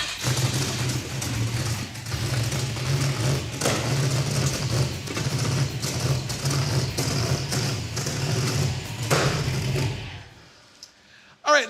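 A turbocharged Mazda rotary-engined Mazdarati project car runs steadily nearby, its engine droning at a constant level for about ten seconds before cutting off into near silence with a brief final thump.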